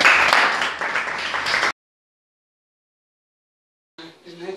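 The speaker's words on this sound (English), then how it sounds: "So clap hand for yourself." Secondary school students clapping in a classroom, a loud burst that cuts off abruptly into silence, then a short return of clapping and voices near the end.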